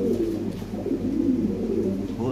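Lahori pigeons, including black checker birds, give a steady, close, low warbling coo that continues without a break.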